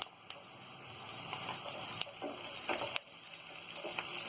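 Carrots and onion fry on a tawa with a soft, steady crackling sizzle, close but fairly quiet, broken by a few sharp clicks and scrapes of stirring.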